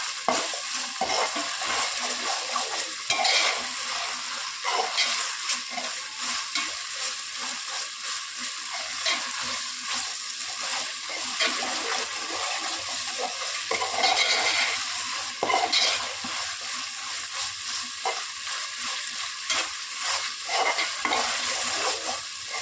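Ginger garlic paste sautés in a pan for mushroom biryani, a steady close sizzle with stirring scrapes running throughout and no talk.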